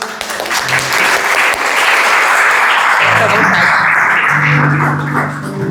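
Church congregation giving loud, dense applause, a continuous roar of many hands clapping close and full for several seconds, with voices faintly mixed in beneath.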